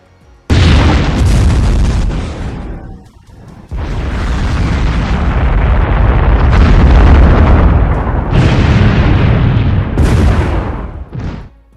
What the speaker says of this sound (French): le bruit tonitruant des bombes qui ravagent la ville